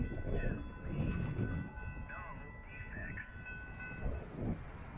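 Brightline higher-speed test train passing a Walton Road crossing at roughly 90 mph, with a sustained rumble of rolling cars and horn-like tones, while people talk.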